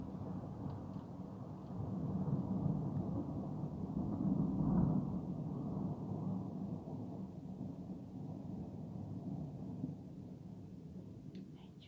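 Thunder in a thunderstorm rolls as a long, low rumble, swelling to a peak midway and then gradually receding, fairly distant and moderately loud, with no voices.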